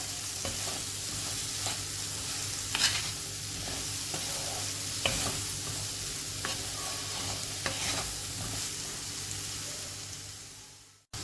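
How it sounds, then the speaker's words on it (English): Zucchini curry masala with red chili powder, turmeric and salt fries in a pan, giving a continuous dense sizzle with intermittent scraping strokes from mixing, close up and steady throughout, with no voices. "Give everything a good mix and fry for another minute."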